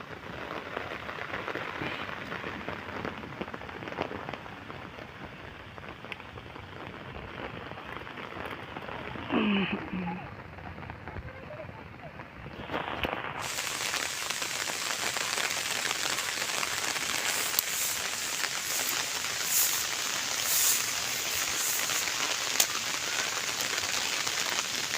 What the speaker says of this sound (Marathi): पाऊस तर जोरदार चालू झाला आहे.